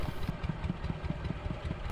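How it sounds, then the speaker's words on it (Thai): A farm tractor scrapes and breaks up salt in an inland salt field at Ban Dung, Udon Thani, its engine chugging in a steady low pulsing rhythm close by, with a faint clattering and no voices. "นี่รถไถนาก็ครูดเกลือให้มันแตกนะครับ"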